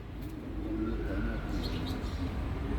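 Pigeons in a coop in Istanbul give soft, low cooing, a few close rolling calls over a quiet steady background hum.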